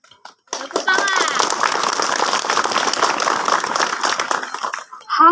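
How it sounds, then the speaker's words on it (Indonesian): Audience at a Batak Day school event at SMP N 1 Parmaksian clapping steadily for several seconds, a dense, loud patter of many hands with a few young voices mixed in. "Tepuk tangan."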